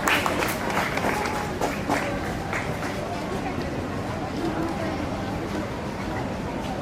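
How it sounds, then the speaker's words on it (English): An audience applauds a school Eco Club skit on saying no to plastic, steady dense clapping from a crowd that holds evenly throughout, with voices mixed in. "let's give a huge round of applause for them"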